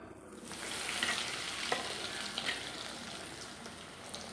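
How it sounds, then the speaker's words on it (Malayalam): Breaded chicken rolls deep-fry in hot oil in a home kitchen, giving a steady close bubbling sizzle with small crackles and pops throughout and no talking. "ഇനി നമുക്ക് ബാക്കിയുള്ളത് ഇതുപോലെ തന്നെ വന്നിട്ട് നമുക്ക് വറുത്ത് കോരിയെടുക്കാവേ."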